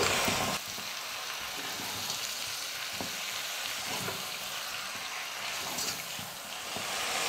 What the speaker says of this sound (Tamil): கறியை சேர்த்ததுக்கு அப்புறமா 5 நிமிஷம் நல்லா நான் வதக்கிக்கிட்டேன்.